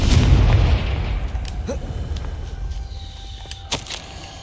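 A Confringo fire spell in the Hogwarts Legacy video game goes off as a heavy booming blast at the start, then decays into a low rumble, with a few sharp pops and cracks scattered after it.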